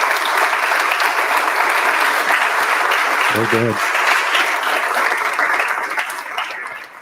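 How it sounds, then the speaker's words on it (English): An audience gives a presenter a loud, sustained round of applause at a startup week event. The dense clapping continues throughout and fades near the end, and a voice speaks briefly partway through. "big round of applause for Chris"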